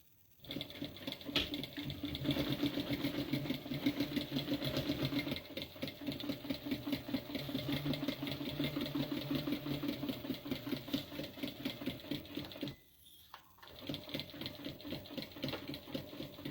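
Sewing machine stitching a small tote bag, a steady rapid mechanical patter running nearly continuously, briefly pausing near the end before resuming.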